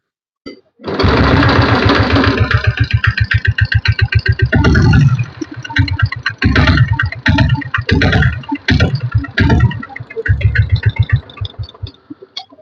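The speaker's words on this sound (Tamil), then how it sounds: "வண்டியை ஸ்டார்ட் பண்ணி காட்டுறேன், பீட் சவுண்ட் எல்லாம் கேளுங்க." A Royal Enfield diesel Bullet motorcycle with a 5 HP engine starts up close and loud. It settles into a rapid, heavy chugging idle with a few uneven revs and brief dips.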